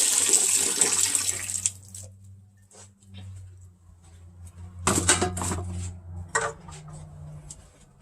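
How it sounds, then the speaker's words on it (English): Broth is poured into cornbread dressing in a pan, a splashing liquid pour loudest at the start, then intermittent sloshing and pan clatter, with a voice speaking quietly in between. "As you can see, I'm adding the broth."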